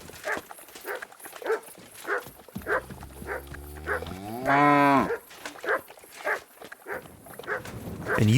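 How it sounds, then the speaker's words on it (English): A cow moos in a medieval village in Kingdom Come: Deliverance II, one long drawn-out low call near the middle, with footsteps and scattered ambient thumps before and after. "Cow."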